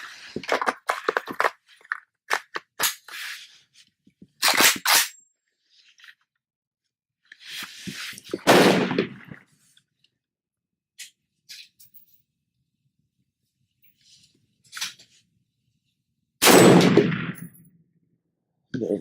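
A 6.5 Creedmoor AK rifle fires Hornady 129-grain Interlock rounds through a chronograph: three loud, sharp shots spaced seconds apart, with quieter clicks and handling noise between them.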